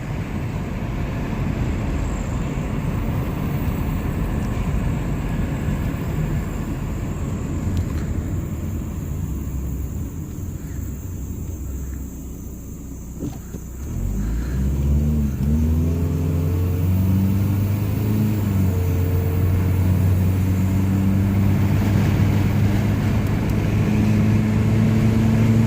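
A 1991 Buick Skylark engine runs at a steady, rough idle, then is revved, its rising and falling tones climbing while the drone grows louder and holds near and continuous.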